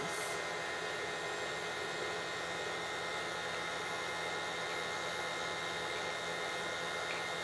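An electric mixer runs steadily throughout, creaming cookie dough with an egg and very dark molasses, a constant whirring hum close by with no talking.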